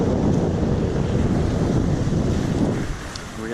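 Strong wind of ten to twelve knots across a sailboat at sea, a loud continuous buffeting rush with water swishing beneath, easing slightly toward the end.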